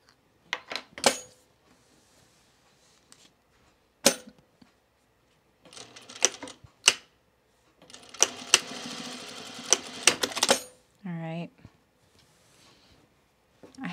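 Sewing machine stitching a belt onto trousers, several short bursts of rapid mechanical whirring separated by pauses, close by, with a longer run near the end and a brief high squeak.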